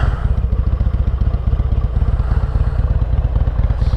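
A Harley-Davidson XL883L Superlow engine being revved a little higher during slow, tight turning practice, with a loud, steady, close-up chugging throb that runs without a break and has no talk over it.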